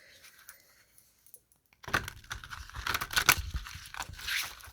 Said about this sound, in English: I'm trying to shuffle these in my lap because it makes a really weird sound on here